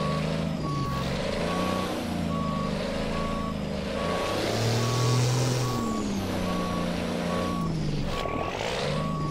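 A Mack truck backs a trailer in American Truck Simulator. A steady, evenly spaced reversing beep repeats over a loud, low engine rumble that rises and falls, with a brief air-brake hiss near the end.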